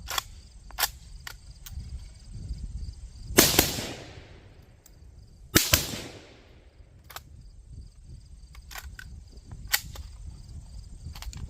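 An AK rifle fed 5.56 rounds from a Pakistani steel magazine fires two loud, sharp shots a couple of seconds apart outdoors, each followed by a decaying echo, with smaller clicks and handling noises scattered around them.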